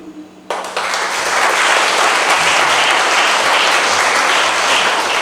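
Wedding guests in a hall break into loud, sustained applause that starts abruptly after a brief quiet moment and continues steadily throughout, a dense clapping crowd close by.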